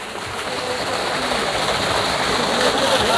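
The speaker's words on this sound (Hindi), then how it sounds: "ये है पानी की मोटर," A water pump motor runs at a farm fair, a steady loud rushing hum of flowing water that holds constant throughout, with someone talking over it.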